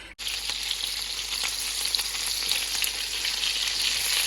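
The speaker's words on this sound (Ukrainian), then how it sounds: "накриваю кришкою і буду смажити хвилинки 3-4 з кожної сторони" Oil sizzles and crackles steadily as pork cutlets fry in a covered pan, a dense, even hiss right up close.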